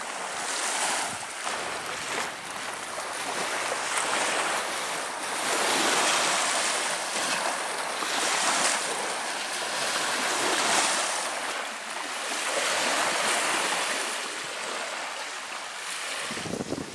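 Steady surf rolls onto a Lake Superior–style lakeshore beach at Pictured Rocks, Michigan, a continuous broadband wash of breaking waves with light wind buffeting, loud and close throughout with no voices.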